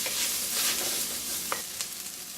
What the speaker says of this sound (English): Get this stirred around together for about 3 minutes.